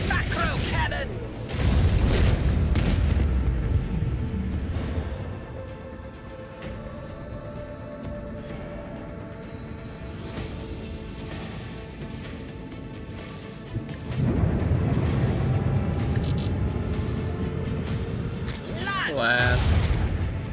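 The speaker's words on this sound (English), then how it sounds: "Engage the macro cannons!" Heavy booming volleys from macro cannons in Warhammer 40K: Rogue Trader, deep rumbling bursts near the start, middle and end, with a quieter sustained rumble and ship hum between them.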